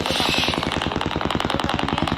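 A Diwali firecracker goes off in a rapid, evenly spaced burst of loud crackling pops. The bangs echo outdoors and hold a fast, machine-gun-like rhythm from start to finish.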